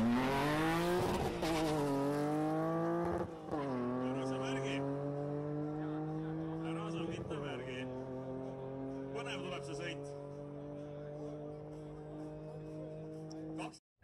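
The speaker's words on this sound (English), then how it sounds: "Z3s are often drag raced." A BMW Z3 accelerating hard in a drag race, engine revving up through rising pitch with several gear shifts and a tire squeal, loud and near before cutting off abruptly at the end.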